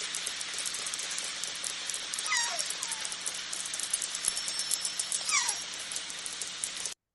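Dense, rapid underwater orca echolocation clicking with a hissy texture, joined by a couple of faint descending whistle-like calls.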